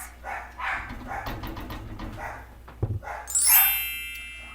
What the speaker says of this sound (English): My dogs are obviously excited about something that's outside.